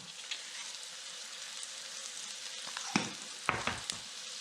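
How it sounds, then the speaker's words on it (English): Onions sautéing in a frying pan with salt, a soft steady sizzle that swells near the end as a few louder stirring scrapes and clanks come through, with no talking. "And we're going to saute just until soft."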